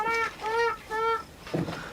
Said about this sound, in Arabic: صوت الطير، هذا صوت الطير هنا